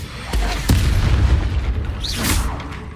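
The Expulso explosion spell in the Hogwarts Legacy video game gives off loud booming blasts: two sharp hits early on, then a sustained rumble with faint whooshing effects during battle.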